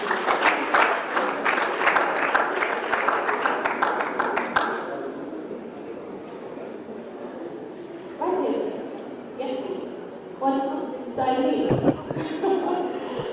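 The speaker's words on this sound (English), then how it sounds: "Please keep clapping, ladies and gentlemen." Audience applause at a youth conference, dense and rhythmic for the first few seconds, then thinning out as the clapping dies away, with a voice and scattered murmurs following in the quieter hall.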